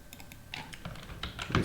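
Quick, light keystrokes on a computer keyboard, about a dozen soft clicks in a brief irregular burst, close and fairly quiet.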